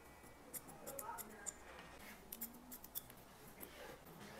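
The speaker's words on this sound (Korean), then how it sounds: "마무리 옆가위질로 종료를 해보도록 하겠습니다" Scissors snip hair during a men's haircut for a middle-aged man, closing with side scissor work; quick, light clicks come in a loose irregular rhythm, close and fairly quiet over faint room noise.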